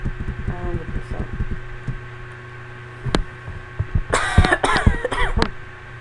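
A person coughs in a few harsh, close bursts, one sharp hack followed by a rougher cluster, over a steady low electrical hum.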